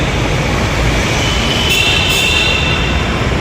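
Bangalore Yellow Line metro train running, a loud continuous broadband rumble and rush heard from on board, with a faint high squeal midway.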